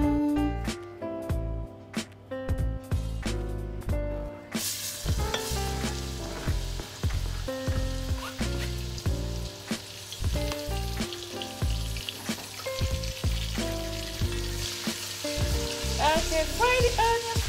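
Onions fry in a hot pan for Nigerian tomato stew: a steady, close crackling hiss swells in after a few seconds and runs on, with a tonal musical background throughout and no talking.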